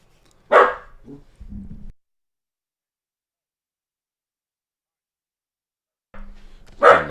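A dog barks a few times indoors, a quick burst of sharp barks at the start followed by long silence, then another bark near the end; fairly close and loud.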